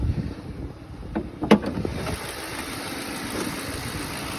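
A Ford Crown Victoria P71 with an aftermarket Typhoon aluminum intake idles, a steady low rumble throughout, with a few light knocks early on and no talking.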